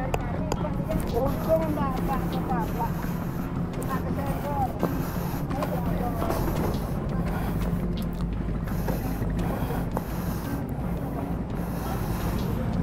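A vehicle engine keeps running on the roadside after a road collision, a low, steady rumble close by that continues throughout while people talk over it.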